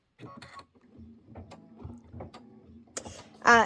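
Embroidery machine stitching a jar tack-down line on fabric, a quiet steady mechanical whir with soft irregular ticks, ending in a louder brief burst near the end.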